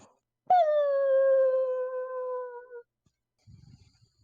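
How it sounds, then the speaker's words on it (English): A single long, steady howl from a wolf-like animal rises sharply, then holds and slowly fades over about two seconds, followed by a brief rustle. "Or at least howling of something similar to wolves."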